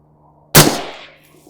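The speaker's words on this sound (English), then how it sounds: "I'm going to switch back over to the 55 grain stuff and shoot one more group" A single sharp rifle shot from an LMT 12.5-inch SPECWAR firing 55 grain rounds, loud and close with a short echoing decay after a quiet moment.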